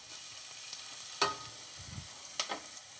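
Carrots and celery go into a pan for soffritto while making pasta fagioli, a soft steady sizzle with a couple of sharper clinks and stirring scrapes, close and fairly quiet.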